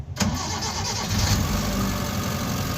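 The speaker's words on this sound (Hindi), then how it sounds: "गाड़ी स्टार्ट हो गई है" A 2016 Fax Xpv car with an engine misfire and check engine light on cranks and starts, then settles into a steady, rough idle close by.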